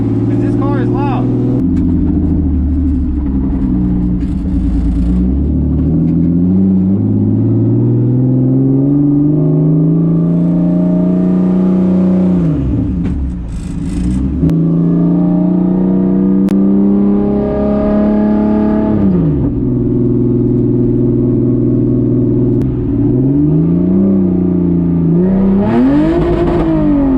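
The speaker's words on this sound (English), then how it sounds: "because this car is loud." A Chevrolet Suburban with a swapped-in LBZ Duramax diesel drives on a race track, its engine heard from inside the cabin droning loudly as it revs up and down through gear changes with a brief lift near the middle.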